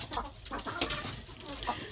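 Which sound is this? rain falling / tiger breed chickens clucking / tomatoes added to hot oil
tiger breed chickens clucking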